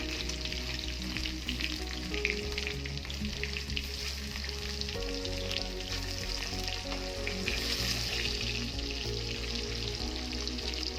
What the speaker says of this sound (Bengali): এদিকে মাছটা আমার এক পিঠ ভাজা হয়ে গেছে,